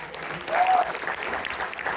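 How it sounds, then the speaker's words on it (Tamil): A crowd claps for the speakers at a Tamil pattimandram debate event, a fairly brief burst of applause that swells in the middle and stays moderately loud, with faint voices mixed in. "சிறப்பாக பேசிய எல்லோருக்கும் மீண்டும் உங்கள் கரகோஷம்"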